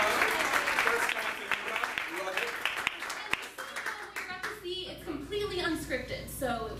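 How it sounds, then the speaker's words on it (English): Audience applause in a small improv theater, a burst of clapping at the start that thins out as voices take over and people talk through the rest. "Round of applause for Gold."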